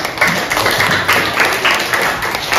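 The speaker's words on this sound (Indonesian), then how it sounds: "Beri tepuk tangan untuk Keisha." A sixth-grade class applauds a classmate, with close, loud clapping from a small group of children in a classroom, uneven and busy, and some faint voices mixed underneath.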